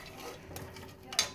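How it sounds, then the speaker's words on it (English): A utensil scrapes and clinks against a pan of breakfast food on a stove burner, quiet and brief, ending in a sharper metallic tap. "stir it up"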